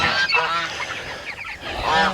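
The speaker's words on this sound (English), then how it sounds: "Got some roosters already trying to fight." Harsh honking, squawking calls from several birds close by, overlapping in quick bursts, like roosters scuffling.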